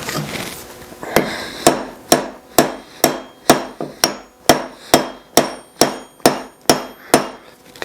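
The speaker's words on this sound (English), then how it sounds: "put in the steel wedges" Steel wedges hammered into a hatchet handle: about a dozen loud, sharp, evenly spaced metallic blows close by, each ringing briefly before the next strike.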